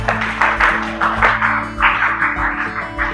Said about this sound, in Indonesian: Tepuk tangan dulu untuk Mardani.